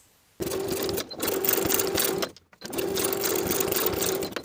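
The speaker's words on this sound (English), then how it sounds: "Overlap the edges of the elastic slightly and zigzag in place to secure." A sewing machine zigzags elastic into place on fleece pajamas, loud close running in two long bursts separated by a brief stop, with a short gap early on.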